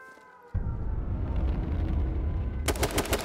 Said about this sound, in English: Taking shots at a Cam Soda's police car. Menma with the full spray, hitting him out.